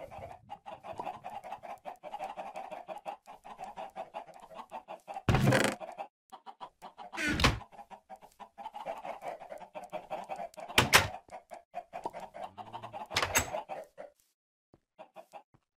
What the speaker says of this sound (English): That was chicken laying yet another egg.